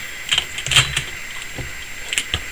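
A computer keyboard for a Raspberry Pi setup is untangled and handled, giving scattered light plastic clicks and rattles in uneven bursts with a faint background hum.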